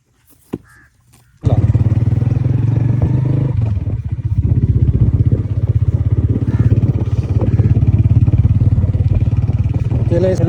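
A motorcycle rides away on a rural farm with a horse, its engine running steadily and close by at a loud, even level after a brief quiet start.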